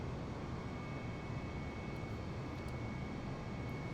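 Steady broadband drone of an airliner cabin in flight from Jabalpur to Lukla in Nepal's Khumbu region, a constant low engine roar with a faint high whine, continuous and unchanging with no voices.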